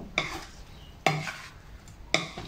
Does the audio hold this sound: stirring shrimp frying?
yes